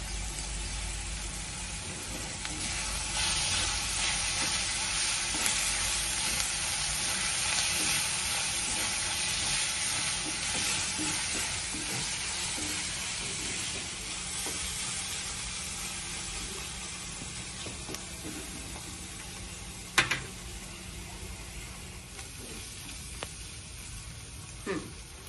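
Onion and crushed garlic frying in a pan give a continuous, hissing sizzle throughout, with a few soft stirring scrapes and one sharp knock near the end.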